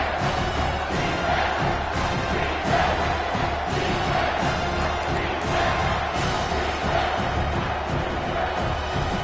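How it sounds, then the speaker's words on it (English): A football stadium crowd roars continuously and loudly for the home defense, a dense wall of sustained cheering and shouting that never lets up. "This crowd will blow out a vocal cord to help this defense."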